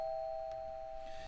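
A sampled bell played back through p5.js rings as a single sustained, pure tone, fairly faint and alone, holding steady for just over a second.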